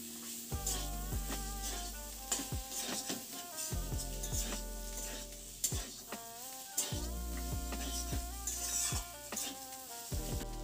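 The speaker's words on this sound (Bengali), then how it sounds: "কড়াইশুঁটিটাও ভালোভাবে মিশিয়ে নিচ্ছি।" Green peas stirred and fried in a pan for a Bengali ghugni, a steady sizzle with scraping stirs running throughout, close and fairly loud, mixed under tonal background music.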